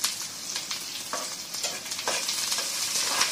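Garlic, curry leaves and slit green chillies frying in hot oil for an Egg 65 dish, giving a steady close sizzle broken by several soft scraping stirs, with no voices.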